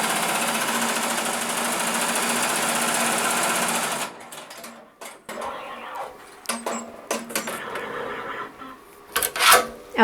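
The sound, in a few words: Melco embroidery machine stitching monogram on Santa hat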